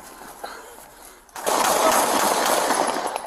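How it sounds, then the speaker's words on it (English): Police bodycam gunfire during a Fargo officer-involved shooting, where a man shot three officers: a sudden loud burst of sustained, harsh noise erupts after a quieter, muffled opening and stays dense to the end. "He was behind the guy and he shot him"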